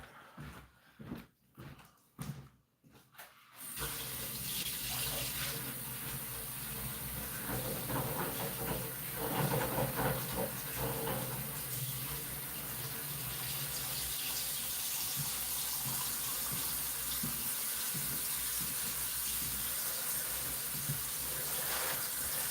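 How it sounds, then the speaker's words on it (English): Hot water runs from a tap into a bucket, a steady, loud hissing gush that starts after a few seconds of knocking and handling, then continues without a break. "let me just fill a thing of hot water up right now"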